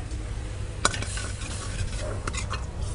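Cashews stirred into a simmering pulao gravy, with a soft, steady bubbling background and a few faint scrapes and clinks of a spoon against the pot.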